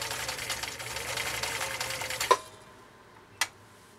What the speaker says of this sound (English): let's see how this Swedish Beauty does laying down a zigzag with that needle swing going through a material like this